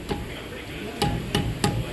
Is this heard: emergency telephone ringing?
no